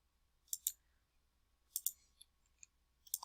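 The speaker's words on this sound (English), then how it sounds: "I click the detail line again" A computer mouse is clicked at a desk, giving a few crisp, close, quiet clicks in small pairs and clusters with near silence between them.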